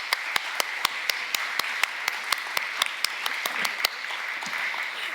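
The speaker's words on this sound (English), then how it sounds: "One more round of applause for our panelists." Summit audience applauding panelists in a housing session in Portland, Maine: steady mid-distance clapping with sharp, regular claps standing out near the front.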